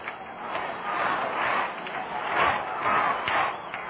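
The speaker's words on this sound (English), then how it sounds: "Listen to the crowd." Crowd noise at a 1964 Houston Colt .45s at New York Mets baseball game, a steady roar of fans cheering and murmuring that swells and dips throughout, with no clear talk over it.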